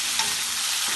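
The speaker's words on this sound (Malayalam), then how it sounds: "ഇതിനി ഇളക്കി വഴറ്റാം." Onions and tomatoes are sautéed and stirred in a pan: a dense, close sizzle with a quick utensil scrape near the start, and no voices.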